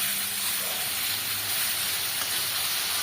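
Taro sautéed in a pan with spices ground on a grinding stone gives a steady, close, even hiss of frying that continues without a break and with no talking.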